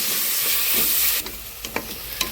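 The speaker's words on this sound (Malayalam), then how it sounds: "ചെറിയ സവാള മുറിച്ചത് വണക്കിയെടുക്കുക." Small chopped onions sauté in a pan, starting with a loud, dense sizzle that drops off suddenly. After that, a few distinct scrapes and clinks of the spoon stirring against the pan can be heard.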